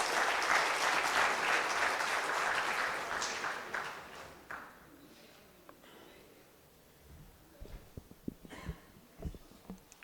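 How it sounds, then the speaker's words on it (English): A conference audience at a national AI event claps loudly for about four seconds before the applause fades out, followed by quiet room sounds with rustling and a few small knocks. "Please give a huge round of applause to Vittalraj sir."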